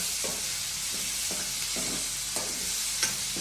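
Green chillies and onion fry in a pan for a tomato fish curry, with a steady close-up sizzle broken by regular scraping stirs of a spoon.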